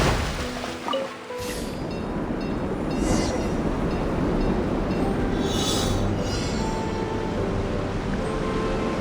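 Choo-choo carts riding on rails in Genshin Impact, a steady loud rolling rumble of wheels on track with occasional hissing swells and no voices.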